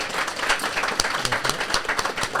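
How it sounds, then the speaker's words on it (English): Brief burst of audience applause at a real estate agent panel event in Huntington Beach, dense clapping from a crowd, fairly close and steady. "round of applause for everyone right now"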